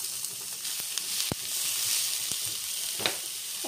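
Onion hitting a drizzle of oil in a pan, a soft steady sizzle with a few faint clicks and one sharper tap, low and close with no talking.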